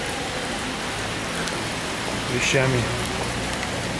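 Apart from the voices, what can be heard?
rain in Santa Cruz de Tenerife, Canary Islands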